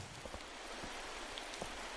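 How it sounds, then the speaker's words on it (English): Steady rain falls at Buckingham Bridge late at night, a dense, even hiss of drops on hard surfaces with a few faint low thuds, continuous and fairly quiet with no voices. "Of course, it's raining."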